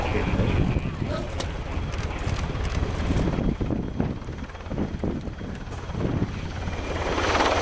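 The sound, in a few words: Finnish Army NH90 helicopter flying at air show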